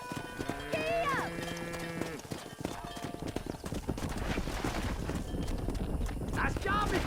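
Horse hooves clip-clop steadily while a rider drives cattle in the Red Dead Redemption western video game, with animal neighs and lowing mixed in and voices shouting over the busy herd.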